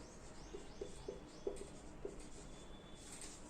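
Pen strokes on paper as a maths equation is written out, a few short scratchy marks spaced unevenly over a quiet background, faint and close.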